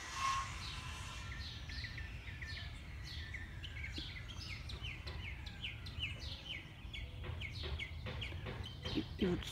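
Small songbirds trill and chirp in a series of bright, repeated phrases in an outdoor yard in the USA, moderately close, over a steady low background hum.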